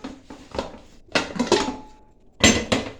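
Metal caps lifted off a pressure cooker after its steam is released, following cooked dal, giving several loud close clanks and rattles in three bursts, with no talk.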